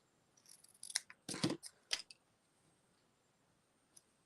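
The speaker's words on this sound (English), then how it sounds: "Find my scissors" Scissors snipping through patterned paper while assembling quilt-strip greeting cards, a quick cluster of close, crisp cuts followed by a lone faint click after a pause.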